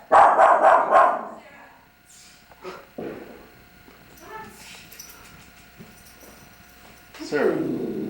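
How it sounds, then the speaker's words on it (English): A small dog gives a loud burst of close barks, then quieter growls and scuffling, before a final louder bark at the end. "That's all she can do is bark and growl."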